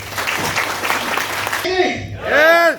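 Crowd applause for leaders at a speaking event, a burst of clapping for about a second and a half that gives way to a speaker's voice near the microphone.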